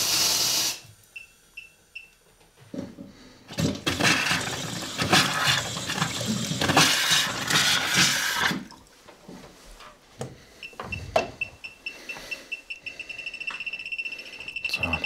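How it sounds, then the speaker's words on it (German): Water from a burst underground pipe gushes and hisses in bursts, loudest in the middle stretch, with quieter gaps and faint chirping insects in the background. "Die Leckage, inzwischen deutlich zu hören, ist vermutlich nicht weit weg."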